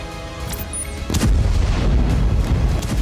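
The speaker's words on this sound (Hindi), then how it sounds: "तेल अवीव में रॉकेट गिरने से कई धमाके हुए हैं।" Rocket strikes in Tel Aviv during the Israel-Gaza war, a deep, heavy boom bursting in about a second in, then a long rumbling roar that stays loud to the end, with no voices.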